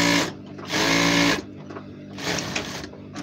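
An overlocker serger runs through uniform fabric in two loud bursts of rapid mechanical whirring and stitching, with quieter machine rattles and handling noises between the runs.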